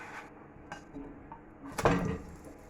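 Metal spatula scraping and clattering in a pan as a cheese-filled waffle is flipped, a few light taps followed by one louder clunk and rustle close up.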